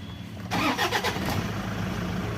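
A Toyota Fortuner with an alternator problem cranks and fires after a short quiet moment, then settles into a close, steady idle.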